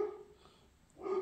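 A pup barks indoors, a short burst at the start and another near the end, moderately loud with a quiet gap between.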